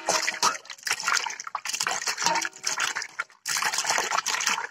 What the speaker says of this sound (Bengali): খুব ভালোভাবে ধুয়ে নিতে হবে। প্রত্যেকবার ধুবো, আর এইভাবে মুঠ চেপে চেপে জলটা ফেলে দিব।